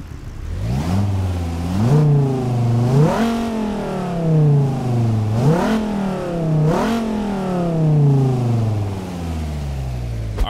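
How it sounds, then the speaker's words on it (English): Dodge Hellcat V8 in a Texas driving video game, revving repeatedly in a rising and falling pattern of about five surges, loud and close with no talking. "Listen to how amazing this car sounds when I fire it up."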